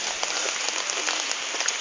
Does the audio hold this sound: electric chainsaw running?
no